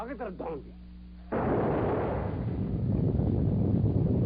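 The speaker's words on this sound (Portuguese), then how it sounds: "Mas quando abrimos a tampa do forno, tudo explodiu." A sudden loud blast when the lid of a hydrogen-filled furnace is opened, after a brief tonal hum, followed by a sustained roaring, rumbling burst that continues to the end.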